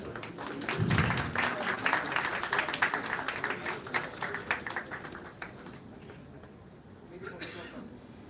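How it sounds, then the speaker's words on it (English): Audience applause for award winners at a film festival ceremony in India: a sustained crowd of clapping hands, moderately loud, tapering after a few seconds, with voices over it. "Please give a big round of applause for them."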